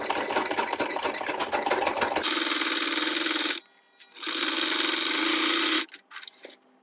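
A sewing machine back stitches a wallet seam in two sustained whirring runs, the first with a rapid needle rhythm, separated by a pause, loud and close.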